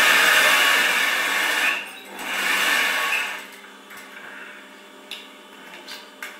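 A sewing machine stitches cushion fabric with a fast, steady whirring buzz that cuts out briefly, runs again, then fades into a few quiet clicks and taps near the end.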